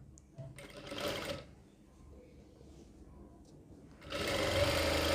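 A sewing machine stitches the collar of a kurti, running in two loud whirring bursts: a short one early and a longer one at the end, separated by a quieter stretch with faint background voice.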